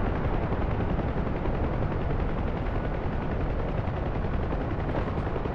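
A helicopter gunship in a combat video game rumbles steadily throughout, its rotor drone blended with a continuous rattle of machine-gun fire, loud and unbroken with no voices.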